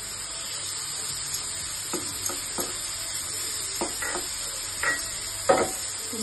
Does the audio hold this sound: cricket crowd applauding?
no